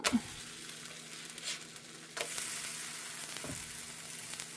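A barley dosa sizzles steadily on a hot pan as it is flipped, a soft continuous frying hiss with a brief scrape at the turn and a slight rise in sizzle afterward.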